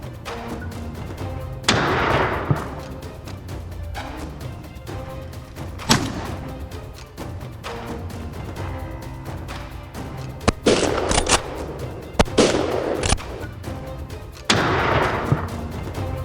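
Gunshots during a wild boar hunt in Manitoba: several loud, booming blasts that ring out and fade, spaced irregularly over a steady outdoor background with no voices.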